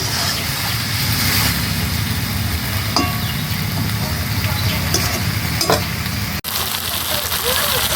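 Jackfruit and potatoes are stirred and sautéed in a pan, a steady close sizzle broken by occasional scraping clinks of the spatula.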